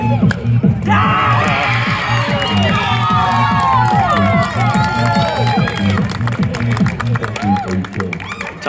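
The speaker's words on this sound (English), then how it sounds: "Crowd loving it." A crowd at a men's 3.5 19+ volleyball gold medal match at the 2022 Nationals cheers, whoops and shouts loudly and without a break, over steady background music and voices.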